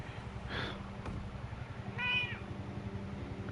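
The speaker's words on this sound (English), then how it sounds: "Calm down, kitty." Cat meowing twice, a short faint mew then a clearer drawn-out meow, heard over a steady low background rumble from a game.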